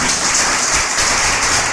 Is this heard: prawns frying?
no